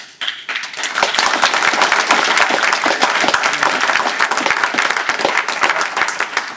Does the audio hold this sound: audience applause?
yes